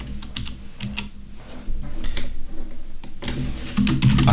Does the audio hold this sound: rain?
no